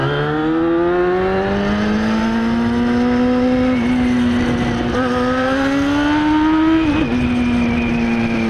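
A Yamaha FZ6N motorcycle engine revs loudly and continuously while being ridden, its pitch climbing steadily with acceleration and dipping briefly at gear changes, close and dominant throughout with wind noise underneath.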